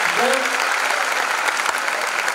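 An audience claps in a packed hall at a talk by a restaurant co-founder, steady dense applause filling the whole stretch at close range with no voices over it.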